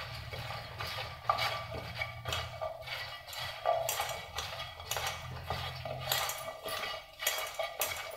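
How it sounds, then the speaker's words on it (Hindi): Repeated clinks and scrapes of a metal spoon against a bowl while mixing raw banana curry ingredients with mustard oil, brisk uneven strokes close up, no speech. "और इसको अच्छे से मिलाइए।"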